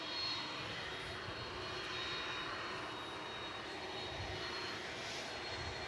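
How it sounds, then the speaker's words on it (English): A McDonnell Douglas MD-11 jet airliner at DFW Airport at night, its engines a steady broadband roar that stays even and fairly distant throughout, with no voices. "here comes the big old MD-11"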